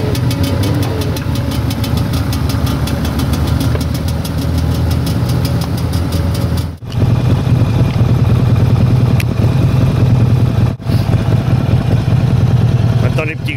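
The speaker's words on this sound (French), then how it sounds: "En fait, c'est une moto électrique avec un bruit enregistré." Electric motorcycle on a rally road playing a recorded combustion engine sound, a loud, steady, buzzing idle-like drone with rhythmic pulses, broken by two brief dropouts, under wind.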